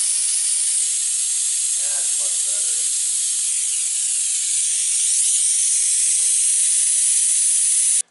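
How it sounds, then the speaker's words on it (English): A Mighty Vac hand pump sucks gear lube out of a Woods mower, giving a steady, loud airy hiss that runs almost unbroken and cuts off sharply at the end. "we're just going to use the trusty Mighty vac to suck it all out"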